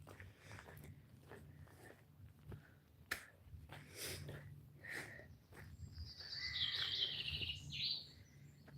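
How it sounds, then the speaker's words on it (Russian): Forest birds chirp and sing in short, faint calls scattered through a quiet woodland, with a brighter bird phrase toward the end. "здесь особенно громко поют птицы"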